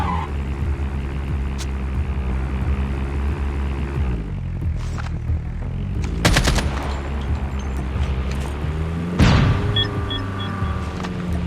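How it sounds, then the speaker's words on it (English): Cluster grenade blasts and gunfire ring out in a Call of Duty Mobile battle royale match. Sharp bursts of explosions arrive in clusters over a constant rumbling game background, with no talking. "a cluster grenade sorted out everything"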